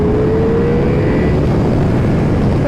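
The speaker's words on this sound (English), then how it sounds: "the wicked sounds that it makes, the grunts, when you accelerate" A Ducati Multistrada V4 RS motorcycle accelerating on a ride through Cleveland, its engine a loud, continuous, close roar with a gradually rising tone and no voices over it.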